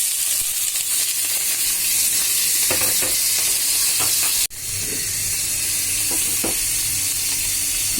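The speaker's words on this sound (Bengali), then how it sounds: "আমি প্রথমে একটু তেল দিয়ে চিংড়ি মাছগুলো একটু ভেজে নিব" Shrimp frying in a little oil in a pan, a steady close sizzle with hiss and occasional stirring scrapes, briefly cut by a sharp break midway before the frying resumes.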